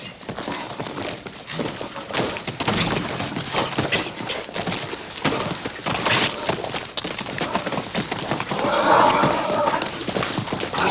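Horse hooves clatter steadily in a busy, noisy outdoor scene, with a brief neigh near the end.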